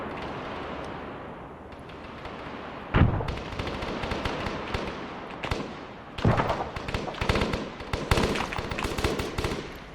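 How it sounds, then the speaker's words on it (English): A tank fires over an infantry line in a battle video game, with heavy booming shots and sharp cracks of gunfire bursting out loud over a rumbling, noisy battlefield backdrop, several blasts spread across the scene. "the tank is shooting over the infantry's line"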